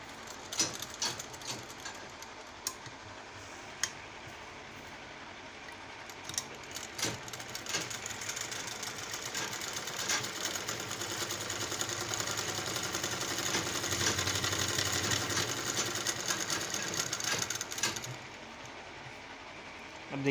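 A large sewing machine, recently adjusted for loose lower stitching, runs in a steady rapid mechanical whir with clicks, building louder through the middle before stopping near the end, close by with no talk.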